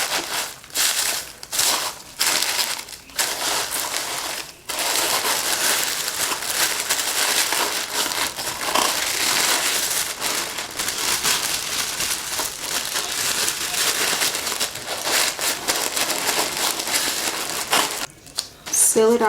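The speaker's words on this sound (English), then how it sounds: "A little bit more shred paper just to make it cute." Shredded paper crinkles and rustles steadily as it is stuffed into a shipping box around an order, close and loud, with a few brief pauses in the handling.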